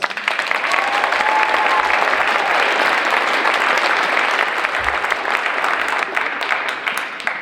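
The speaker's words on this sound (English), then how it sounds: "Give them a round of applause." A high school audience at a farewell concert applauds steadily, dense clapping from a crowd filling the hall at an even, sustained loudness throughout.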